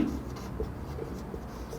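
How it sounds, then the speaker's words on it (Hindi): Steady scratching of writing on a board during a physics lecture, continuous and close over faint room noise, with no speech. "तो यहां पर हम अगला स्टेप लिखते हैं"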